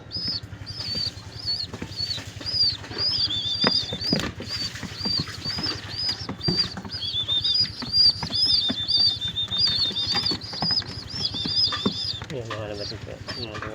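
Young pigeons fed from an open palm flap their wings in repeated close bursts, with soft bird calls and cooing over a steady low hum.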